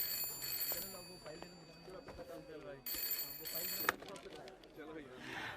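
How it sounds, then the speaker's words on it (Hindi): A telephone rings in two bursts of a bright, trilling bell in an office, with people talking quietly underneath. "फोन बज रहा है तुम्हारा"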